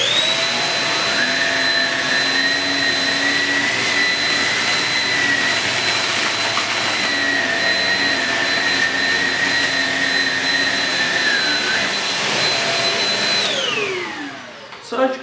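A Shark Rocket vacuum with a carpet brush runs on its high-speed setting, giving off a loud, steady, high-pitched whine close by that holds for about thirteen seconds before winding down.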